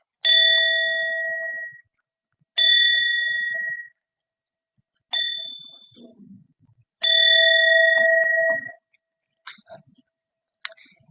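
A Zen temple bell rings in four struck tones of varying force, each a clear ringing note that decays over about a second, followed by a few faint taps.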